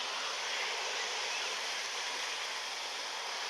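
Steady broadband wash of high sea waves on the beach at Ras El Bar, a continuous hissing surf at even loudness with no talk.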